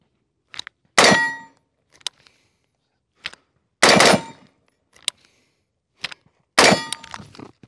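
A rifle hanging on a sling drops and clanks sharply against its gear three times, each loud metallic clang followed by a short rattle, with faint clicks and handling noises in between.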